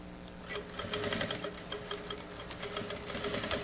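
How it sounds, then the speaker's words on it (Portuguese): A sewing machine runs in quick close bursts, its needle ticking rapidly as it stitches bias binding onto a shoulder bag, with brief slowdowns between runs. "Agora a gente vai fazer a costura com viés de acabamento"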